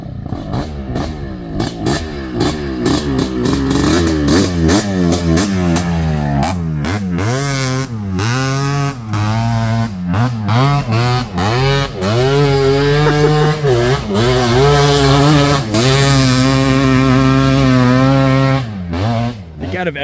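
A Yamaha Tri-Z 250 three-wheeler revving loudly on sand dunes, the engine pitch climbing and falling repeatedly in strong close sweeps, with a voice partly over it.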